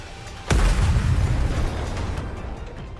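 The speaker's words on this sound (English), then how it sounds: "The missiles have no homing ability. It's just firing wildly!" A missile explosion in NIKKE's Stellar Blade collab erupts with one sudden loud boom after a brief quiet, then rumbles and crackles as it slowly dies away.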